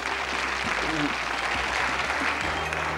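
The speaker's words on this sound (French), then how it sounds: "On vous applaudit, on vous encourage aussi." A studio audience on a French TV quiz show claps steadily, the applause fairly soft and even, with a low hum or music bed underneath.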